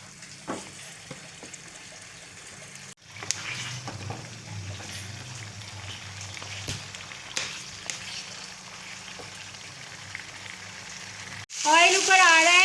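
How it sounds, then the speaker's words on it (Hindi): Meat bones frying in oil for haddi guddi salan, a steady close sizzle with occasional stirring scrapes and spoon clinks, ending with a brief burst of louder clatter. "अब हम इसको मज़ीद भूनते हैं 2 से 3 मिनट तक।"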